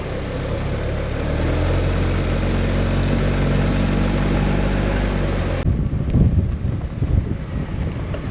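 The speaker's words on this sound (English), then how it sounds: "It is rather windy out here" Strong gusts of wind buffet the microphone beside a pond on the Midwest prairie, a loud continuous roar that eases and breaks into rougher, choppier rumbling toward the end.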